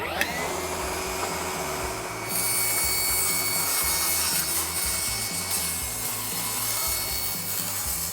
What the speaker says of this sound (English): transfer that measurement to a table saw, and it makes it very easy to make this long cut on here